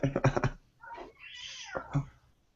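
A young girl imitates a cat, giving a rising, drawn-out meow after a few short voiced syllables, close and fairly loud in a quiet room.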